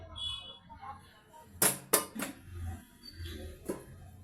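Chanda fish dropped into a cooking pot already holding potatoes, a few close clanks and clatters against the pot, with faint room noise between.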